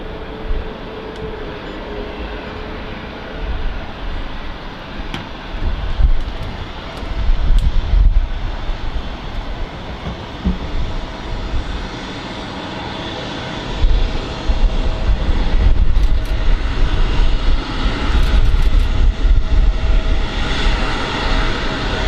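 An airliner taxis at Manchester Airport, its jet engines producing a loud, sustained roar with swelling rumble and wind buffeting on the microphone, heard close and continuous without speech.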